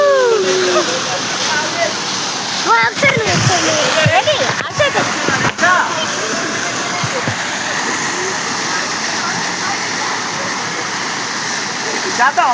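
Water splashes steadily as people wade through it on foot, a continuous loud wash with sharper sloshes in the first half, while voices talk over it.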